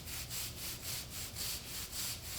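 A barbering brush rubbed up and down a hair braid, giving a steady rhythmic scratchy brushing of about ten strokes, close and alone.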